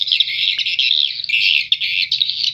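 Recorded swiftlet lure call played back: loud, dense, rapid high chirping and twittering in continuous bursts, with brief gaps, over a faint low background.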